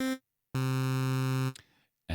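A synth lead in Vital built from two sawtooth oscillators with no detuning, playing one sustained bright, buzzy note for about a second between short bursts, closely recorded with no voices.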